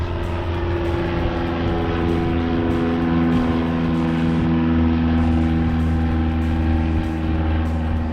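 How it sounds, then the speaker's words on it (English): A propeller airplane drones loudly and steadily overhead, its engine hum constant with a broad rumbling roar throughout. "Hold on, let the plane pass."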